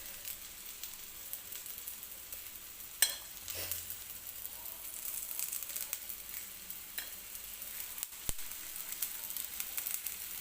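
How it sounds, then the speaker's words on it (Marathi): Bread coated in gram flour batter frying in a little oil in a pan over medium heat, a soft continuous sizzle and crackle, close but quiet, with a brief knock of the pan and no talking. "मीडियम गॅसवरतीच मी एका बाजूला सुरुवातीला हे ब्रेड छान असे भाजून घेते"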